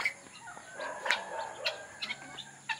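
A Rhode Island Red chicken on a small mixed poultry farm clucks in short, soft, irregular bursts, a few nearby calls with quiet gaps between them.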